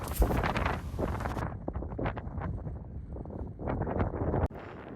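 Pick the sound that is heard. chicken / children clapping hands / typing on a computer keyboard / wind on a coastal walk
wind on a coastal walk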